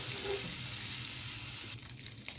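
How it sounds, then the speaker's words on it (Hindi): Paneer cubes frying lightly in hot oil on a gas stove for dhaba-style masala paneer give a steady, close sizzle with soft crackle throughout, and a faint clatter near the end. "बिल्कुल थोड़ा सा फ्राई करना है, बहुत ही हल्का फ्राई करना है।"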